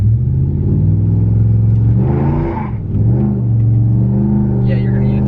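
A Ram 1500 Hemi truck with a 3600 stall converter revs up in two-wheel drive during a stall test, its engine rumbling loud and near, rising and dipping in pitch while someone talks over it.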